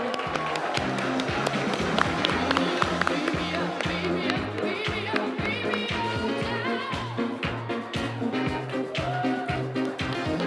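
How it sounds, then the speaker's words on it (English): Steady applause from a large audience at the 2021 Environmental Media Association Awards, continuous and dense, with music and a rhythmic beat running underneath throughout. "Keep that clapping going."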